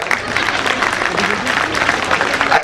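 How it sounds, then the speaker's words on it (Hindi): Women in the audience at a Gita Jayanti gathering clap together, a busy, fairly loud patter of hands throughout, with some crowd murmur beneath. "तालियां केवल महिलाएं बजा रही हैं"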